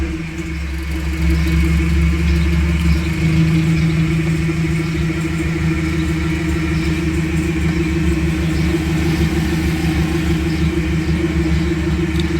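A Nissan Platina engine with failing ignition coils starts and runs rough at idle, a loud, close, steady low rumble with an uneven pulse and no talking.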